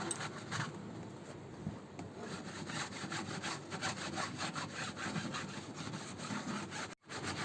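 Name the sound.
gently scrubbing air conditioner filter net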